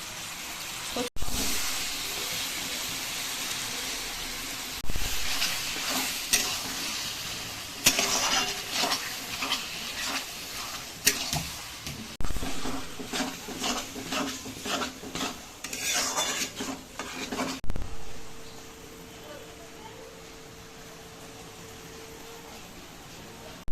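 Boiled taro gets tossed and stirred in a pan, with repeated loud metal scraping and clattering of a spoon against the pan over a sizzling bed of oil. Near the end the clatter stops, leaving a quieter steady hiss.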